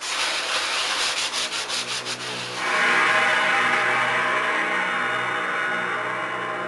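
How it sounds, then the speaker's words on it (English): Rapid scratchy rubbing strokes of sandpaper, close and steady, giving way to a smoother continuous sanding hiss; no talking. "So a bit more scuff sanding"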